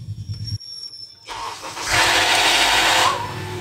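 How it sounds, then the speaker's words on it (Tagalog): A third-generation Honda CR-V cold-starting with a faulty VTC actuator: after quiet idle-like hum, the engine cranks and catches into a loud, rough, gritty roar with a brief grinding squeal, held close and steady for a couple of seconds. "parang may ginigiling sa loob ng makina"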